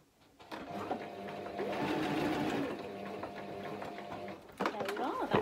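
A sewing machine stitches back over a seam on a tailor's ham, a close steady mechanical whirr with a rapid needle rhythm running for a few seconds before stopping, with a voice talking over it.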